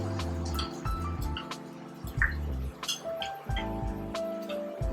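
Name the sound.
mixing cornstarch with water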